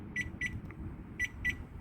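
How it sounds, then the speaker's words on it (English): A Jaguar car sounds its horn-like alert after being triggered remotely through the InControl app: four short, clear electronic beeps in two evenly spaced pairs, heard alone over a low rumbling outdoor background. "My car's beeping and flashing the lights."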